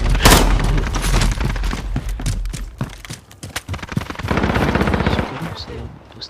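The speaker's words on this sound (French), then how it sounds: "je vois qu'on me tire derrière" Rapid machine-gun bursts and gunshots from the video game Call of Duty Modern Warfare crackle loud and close in dense volleys, with a short lull before the firing resumes.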